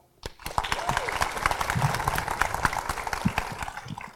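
An audience at a live space-station science event applauds the chief scientist of the International Space Station, a crisp, steady round of clapping with many distinct individual claps, moderately loud, rising quickly and holding throughout.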